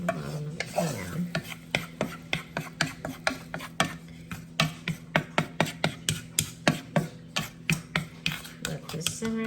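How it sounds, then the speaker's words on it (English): A utensil scrapes the bottom of a pan of sizzling balsamic vinegar, making a long series of quick, rhythmic rasping strokes close up over a low simmering hiss. "we just want to scrape up any last bits on the bottom of the pan"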